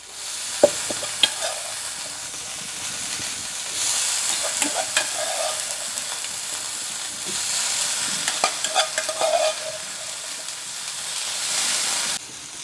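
Boiled cluster beans drop into hot oil with curry leaves and two dried red chillies, setting off a loud sizzle and hiss that swells in bursts, with clattering stirring and scraping against the pan, close up and without talk.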